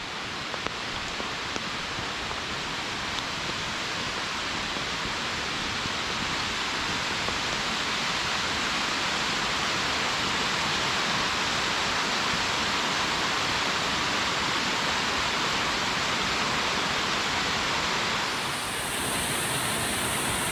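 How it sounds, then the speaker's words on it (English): A waterfall in a river canyon on a rainy winter hike roars loud and unbroken, a dense wash of falling water that holds steady for the whole stretch. "Coming up to a nice waterfall"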